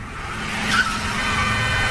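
Car skidding while swerving to overtake a container truck, with a steady road roar and a sharp tire squeal that flares briefly partway through, close and loud.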